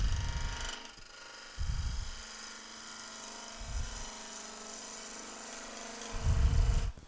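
A skew chisel shaves a wooden spindle turning on a lathe, a soft steady hum of the spinning wood broken by a few short rough cutting bursts, close and fairly quiet.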